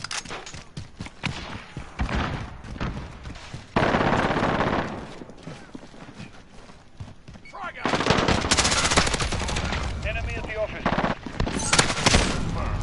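Automatic gunfire from a first-person shooter video game rattles in loud, dense bursts throughout, with rapid strings of shots separated by brief lulls and heavy impacts layered in.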